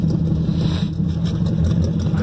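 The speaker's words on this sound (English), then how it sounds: "It's running pretty smoothly. You can probably tell. Idle's pretty nice." Car engine idling with a manifold leak, a steady close rumble with an even low throb and no voices over it.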